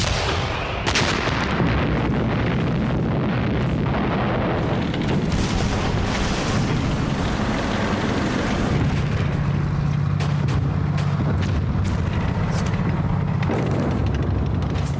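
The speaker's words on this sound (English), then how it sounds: "On December the 16th, 1944, the Germans opened fire." Heavy artillery barrage from a 1944 German offensive in the Ardennes: dense, overlapping booms and blasts roll continuously, with sharper close detonations punctuating a sustained rumbling wall of fire.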